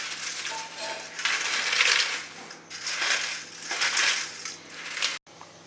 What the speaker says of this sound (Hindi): आइए इसे हम ऐसे तोड़ देंगे।